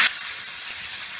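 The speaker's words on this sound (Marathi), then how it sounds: "तेल गरम झालं की यामध्ये वाटून घेतलेला मिरचीचा ठेचा घालायचा।" Crushed green chilli thecha hits hot oil in an iron pan and gives a sudden loud sizzle at the start, then a steady, close hiss of frying with no talking.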